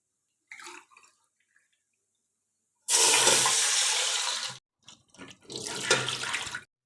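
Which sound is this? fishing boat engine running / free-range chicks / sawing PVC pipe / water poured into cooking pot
water poured into cooking pot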